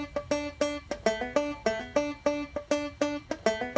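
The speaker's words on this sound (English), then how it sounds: "So just a nice little simple banjo riff." A simple country banjo riff sample with bright, crisply plucked notes in a steady bouncing rhythm, clear and alone without any talking.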